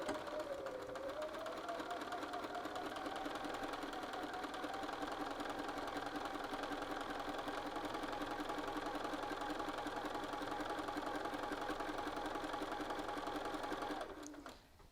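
A sewing machine stitches garment button bands with an edge stitch foot, a steady close mechanical hum and rapid needle patter running continuously before stopping at the end.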